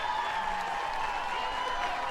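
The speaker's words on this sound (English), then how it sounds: "And fans clapping for Isa leading off" Fans in the stands at a Florida State vs NC State college softball game clap for Seminoles leadoff batter Isa Torres, a steady distant patter of applause with crowd murmur throughout.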